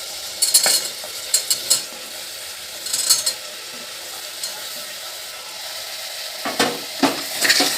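Carrots and beans being stirred into a sautéing pan with tomato for vegetable kurma, with intermittent scraping and clinking of a spoon on the pan over a low, steady sizzle.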